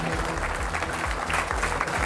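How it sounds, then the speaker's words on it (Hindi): A debate audience gives a short burst of dense clapping to welcome the next speakers, steady and fairly close for about two seconds. "तालियों के साथ बहुत बहुत अभिनंदन दोनों का"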